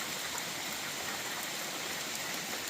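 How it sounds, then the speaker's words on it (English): Rain falls steadily on a campsite, a dense even hiss with no pauses and no voices. "sometimes the rain blows in sideways, so the chairs still get wet"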